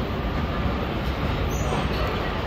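Train at Old Delhi railway station gives a steady, loud broadband rumble with no distinct clatter or horn, filling the whole clip without speech.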